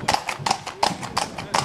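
Approved DHH stallions trotting, hoofbeats landing in an even, brisk rhythm of regular two-beat footfalls, fairly close.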